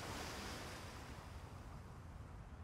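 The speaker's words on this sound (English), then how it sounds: "The sea." Sea waves rolling in as a broad, steady wash of surf with wind noise, filling the whole short stretch evenly with no voices.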